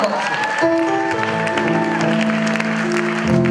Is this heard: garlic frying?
no